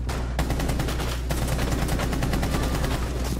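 Rapid, sustained automatic gunfire in the Rainbow Six video game, loud and close, with fast regular shots running almost unbroken for several seconds over a steady low rumble.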